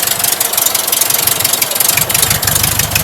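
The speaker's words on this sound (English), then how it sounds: "Tailpipe's got a weird sound to them." A loud VW air-cooled engine runs steadily close by on first start, with a rough, pulsing exhaust rumble and a busy mechanical clatter throughout.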